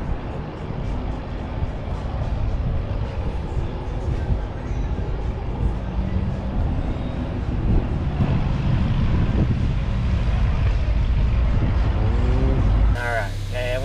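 A Lamborghini Huracán Performante race car drives laps at Las Vegas Motor Speedway, its engine roar and rushing wind noise loud and steady throughout, with a brief abrupt change near the end.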